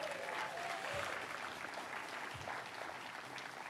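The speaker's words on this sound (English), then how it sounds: "Can I have a round of applause for that?" An audience at a university new-building grand opening at CSUDH applauds steadily for almost four seconds, a soft, distant wash of clapping with no voices over it.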